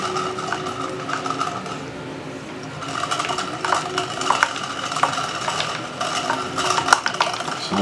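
A hand-held static grass applicator buzzes steadily while scattering grass fibers onto glued scenery, a continuous mechanical whir with light crackling and clicking textures, close and fairly consistent without talk.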